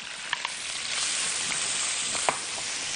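Onions frying in a pan with meat for potatoes, a steady bright sizzle with small pops and crackles, close and continuous without talk.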